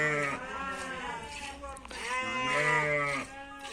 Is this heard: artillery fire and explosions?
no